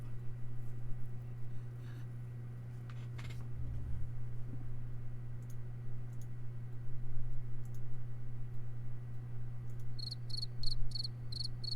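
Crickets chirping at night, a faint series of quick, high repeated trills over a steady low electrical hum, growing more regular toward the end.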